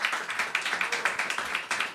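Audience at a French talk show clapping for themselves, a fairly sparse, rhythmic patter of individual claps, modest in volume and fairly close.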